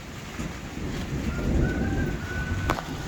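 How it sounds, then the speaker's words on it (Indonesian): Steady heavy rain pours with a low rumble of thunder rolling underneath, a continuous, fairly loud wash of noise with no voices. "Itu hujan, Bro."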